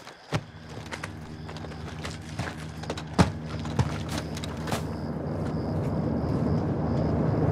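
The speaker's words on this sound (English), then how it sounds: "Got a heli incoming" In Call of Duty: Modern Warfare II, a helicopter approaches as a low rotor thrum that grows steadily louder, with scattered sharp clicks and thuds over it.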